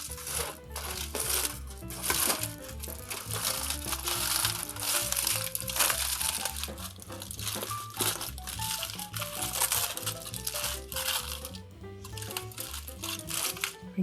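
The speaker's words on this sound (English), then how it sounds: "we'll take it out of the oven, peel it open, see what the results are here." Wrapped seitan roast just out of the oven is peeled open, giving loud, close crinkling and crackling of wrapping as it is pulled apart. The sound comes in busy bursts that run nearly continuously, with no one speaking.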